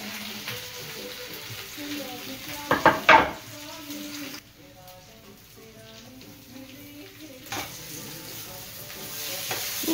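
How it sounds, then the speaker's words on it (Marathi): Potatoes being stirred together with chilli powder in a hot pan, a steady sizzle of frying under scraping spoon strokes with a few louder clatters of utensil against the pan. "बटाटे घातल्यानंतर हे सगळं काही छानपैकी मिक्स करून घ्यायचं"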